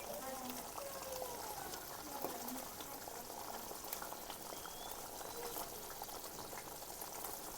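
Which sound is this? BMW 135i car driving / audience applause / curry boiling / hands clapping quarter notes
curry boiling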